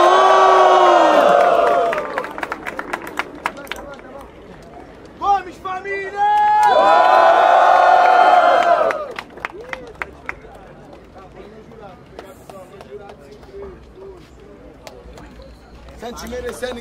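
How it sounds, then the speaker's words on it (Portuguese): A rap battle crowd roars, cheers and shouts in two loud surges, with lively chatter and scattered yells between them. "Barulho só pra quem achou que foi Neo, família!"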